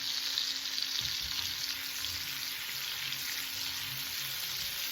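Oversized chicken legs sautéing in a pan, giving a continuous close sizzle and frying crackle at an even level with faint stirring sounds and no talking.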